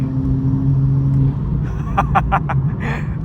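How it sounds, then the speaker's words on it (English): Intake and engine note from a new Toyota Supra MK5 inline six, a steady low drone that fades after a second, with brief sharp bursts and some voice-like babble in the cabin. "Oh, listen to the intake."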